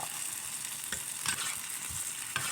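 Food stir-fries in a pan with a soft, steady sizzle. A few quick scrapes and taps of the utensil stirring the pan come through, and the whole thing stays fairly quiet and close.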